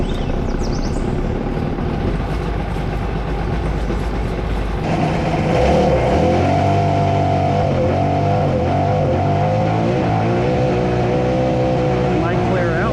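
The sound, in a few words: 1996 Seadoo XP800 personal watercraft engine running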